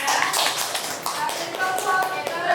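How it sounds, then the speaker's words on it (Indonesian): A classroom of students claps in applause, a dense, steady patter of many hands held close throughout, with voices mixed in. "kita beri tepuk tangan."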